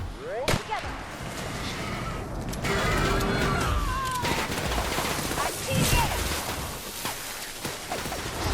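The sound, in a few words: gunshots in The Outer Worlds video game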